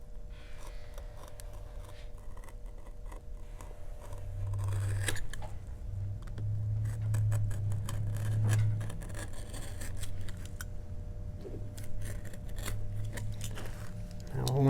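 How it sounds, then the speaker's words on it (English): A leather belt cut with a blade, heard as faint scraping and crunching with scattered sharp clicks, close and quiet over a steady low hum, with a person talking softly in between. "I find it easier to cut from the edge of this belt down to that point"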